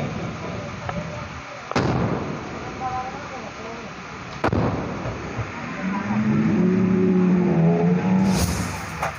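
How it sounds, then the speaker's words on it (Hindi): An RPG fired at a jeep: sharp launch cracks and a booming blast under a continuous engine-like rumble and a voice talking over it, with a rising whine near the end. "यहाँ पर एक जीप को आरपीजी का निशाना बनाया जा रहा है।"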